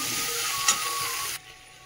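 Potatoes dropping into hot fish oil with a little onion, giving a steady close hiss of frying that cuts off and drops to a quieter simmer near the end.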